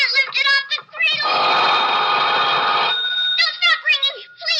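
Radio-drama telephone ringing, an old bell-style ring sounding as one long continuous burst, loud and near, with strained, distorted speech before and after it.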